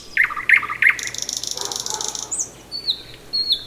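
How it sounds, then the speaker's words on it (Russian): A common nightingale sings at night in a park, loud and near, in varied phrases: sharp repeated chirps, a rapid rattling trill, then thin whistled notes. No voices are heard. "Обыкновенный соловей – это главный ночной певец мая."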